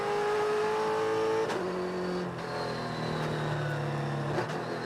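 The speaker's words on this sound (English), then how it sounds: "Mike, I'll let you listen to the sound of the engine or the sound of the car." Trans Am race car at the Atlanta SpeedTour, its engine holding a steady loud drone with gear changes and shifting pitch as it rejoins the track, close and continuous with no talk.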